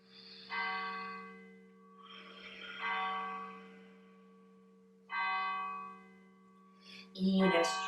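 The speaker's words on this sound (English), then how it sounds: "We're gonna have a bell concert for this practice." Bells ring in slow separate strikes during a yoga practice, each tone clear and sustained before fading, with a quiet instructor's voice between them.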